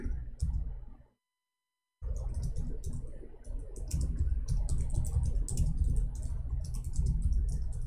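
Computer keyboard typing, with rapid clicking keystrokes close to the microphone, a brief pause of silence, then more continuous fast typing.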